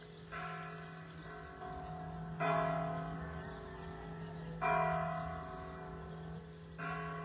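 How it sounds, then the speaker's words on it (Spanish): Church bells of the Sagrado Corazón in Jiquilpan, Michoacán, Mexico peal in three strong strikes, each ringing out with a long, humming decay, with no voices over them. "Estas son las campanadas del Sagrado Corazón"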